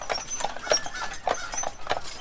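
Carriage horses on Mackinac Island clip-clopping on the road, a steady run of close, fairly loud hoofbeats about every half second, with no talk over them.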